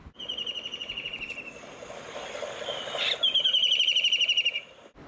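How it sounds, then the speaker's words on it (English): Loud, repeated harsh chirping calls from a kingfisher, rapid and continuous, rising in intensity toward the end over a soft rustling background. "kingfishers make dry, loud screeching sound"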